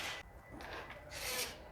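Glass walls around a house are wiped clean with a cloth, giving several short, close rubbing swipes with brief pauses between strokes.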